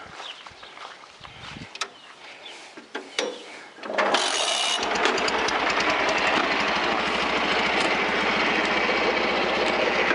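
Wooden knocks and shuffling sounds give way to a walk-behind tractor engine starting up and running steadily in a yard, loud and close, chugging on without a break.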